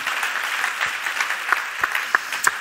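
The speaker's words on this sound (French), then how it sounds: "Merci Philippe, on peut l'applaudir." Audience applause at a televised celebrity science quiz, a steady wash of many hands clapping with a few sharper claps standing out, moderately close and alone without talk.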